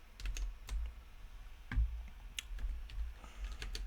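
Computer keyboard typing as code is entered, a steady patter of quiet key clicks with a few sharper strikes, close and alone without speech.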